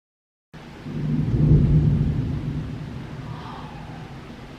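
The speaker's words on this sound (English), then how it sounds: "Did you guys hear that thunder?" A single deep roll of thunder rumbles up, swells to a peak and slowly fades, heard from indoors without other sounds over it.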